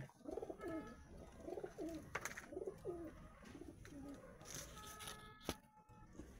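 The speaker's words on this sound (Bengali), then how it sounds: "এই যে পায়রাগুলো, এর মধ্যে একটা লক্ষা পায়রা রয়েছে।" Pigeons in a loft, including a Lakka (fantail) pigeon, coo in a run of soft, rolling calls, repeated several times at moderate distance, with faint background noise and a sharp clack near the end.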